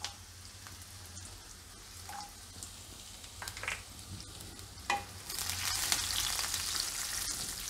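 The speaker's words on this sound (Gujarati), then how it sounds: "તેલમાં આ રીતે મરચાં નાખીએ એટલે સરસ તીખાશ આવી જાય." Green chillies, cashews and raisins fry in hot oil for lilva kachori, a soft crackling sizzle with occasional spoon clinks that swells into a brighter, louder hiss toward the end.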